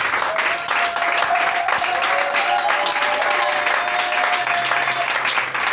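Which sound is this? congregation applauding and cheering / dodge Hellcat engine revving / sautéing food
congregation applauding and cheering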